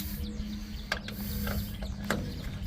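Faint, close mechanical clicking and creaking from a half-inch ratchet wrench tightening a nut on a car's front shock absorber, a few sparse ratchet strokes over a low background hum.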